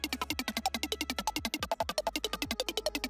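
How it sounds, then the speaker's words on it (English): A fast, evenly pulsing synthesizer arpeggio made by resampling in Ableton Live steps through bright notes in a steady rapid rhythm, played alone without any voices. "create a unique arpeggiated pattern"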